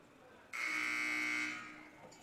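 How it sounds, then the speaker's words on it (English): A buzzer sounds at a women's college basketball game, a single loud electronic tone held steadily for about a second before fading, with faint arena noise around it. "Buzzer sounds."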